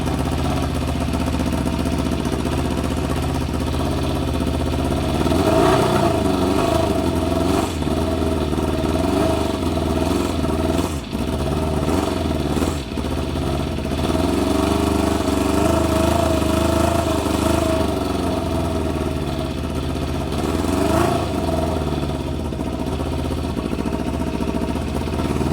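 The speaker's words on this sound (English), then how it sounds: "It revs fine with more fuel." A Yamaha Fazer 600 motorcycle engine running on carburetors fitted with pod filters, revving loudly and continuously close by, with rises and dips around a steady idle.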